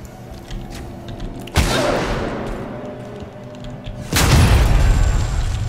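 Flashbang detonating in Alien: Isolation: two sudden, loud broadband bursts a few seconds apart, each followed by a sustained hissing ring that slowly fades.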